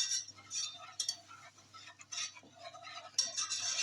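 A whisk stirs flour into melted butter in a pan for homemade lasagne, giving soft scraping and light metallic clinks against the pan in an uneven rhythm, close and fairly quiet.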